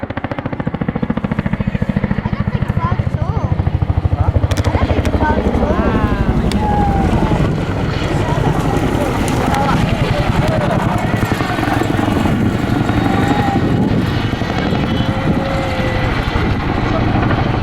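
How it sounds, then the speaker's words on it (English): A Chinook tandem-rotor helicopter at an airshow: heavy rotor thrum fills the air continuously, loud and steady, with broadband wind-like roar throughout. "the distinctive sight and sound of this amazing helicopter with tandem rotors"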